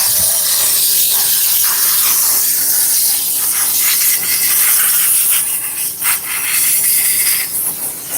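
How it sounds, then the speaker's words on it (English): Steam cleaner hissing steadily and loudly for the whole stretch while cleaning away skin oils, a continuous broad spray-like hiss with slight fluctuations and no talking. "We give a lot of steam cleaning."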